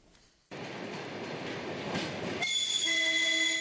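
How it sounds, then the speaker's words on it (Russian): A train carrying sports fans rolls into a station platform with a loud rumbling roar, then high metallic wheel squeals ring out as it slows. "Поезд с болельщиками врывается на платформу в облаке тополиного пуха"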